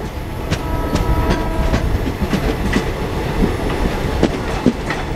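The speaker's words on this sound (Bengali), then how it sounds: "ক্রসিং হচ্ছে তিস্তা তোরসা এক্সপ্রেসের সাথে" The Haldibari Superfast Express runs at speed, crossing the Teesta Torsa Express near Dalkhola, with a dense, loud roar of wheels and steady clickety-clack beats over rails, and occasional faint squeals.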